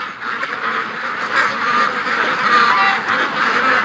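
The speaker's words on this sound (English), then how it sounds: "Busy ducks." A crowded flock of raised ducks keeps up a loud, steady quacking chorus nearby, overlapping calls filling the whole stretch without any voices.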